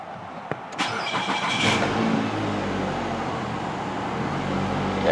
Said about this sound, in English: start the engine first